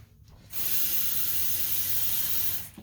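Cold water gushes steadily from a kitchen tap into a small pot, a loud continuous hissing rush that starts abruptly and cuts off after about two seconds.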